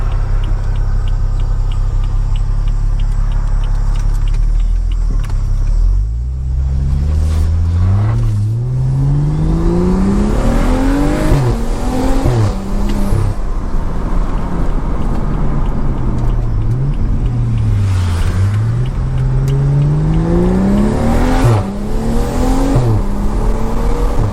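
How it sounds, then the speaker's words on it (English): A BMW F30 335i with modified loud exhaust revs and pulls hard on the road, its engine pitch climbing and falling through gear changes, with crackling pops and bangs on lift-off, loud and continuous throughout. "When you let off the gas in here, you're like, brap."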